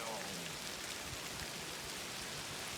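Steady rain falls and patters on surfaces outdoors on a rainy day, a dense continuous hiss that stays even throughout with no break.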